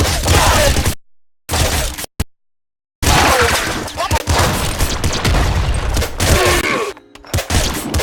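Auto crossbow firing in the video game Nuclear Throne, a rapid stream of sharp, loud shots and impacts broken by brief gaps of silence, with a voice talking over the action.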